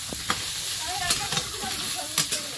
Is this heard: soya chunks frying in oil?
yes